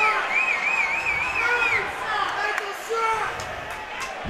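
An indoor crowd at a high school hockey playoff game roars and shouts at a penalty play, a dense rolling swell with whistles and cries rising over it, near and loud throughout.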